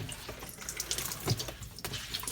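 Wet clothing squeezed by hand over the tub of a Kuppet twin tub portable mini washing machine, with water trickling and splashing continuously into leftover water, close and moderately loud, no talking.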